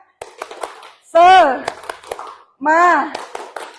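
A group does a rhythmic spirit clap, tepuk semangat: bursts of quick patterned hand claps alternate with loud, drawn-out group chanting at close range.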